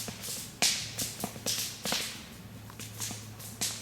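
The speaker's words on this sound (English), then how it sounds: "my fire's so noisy" A campfire crackles and pops up close, with sharp irregular snaps over a steady low hum.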